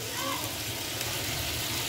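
Steady, quiet sizzling of gravy poured into a hot frying pan with eggs, a continuous crackling hiss with no clear voices.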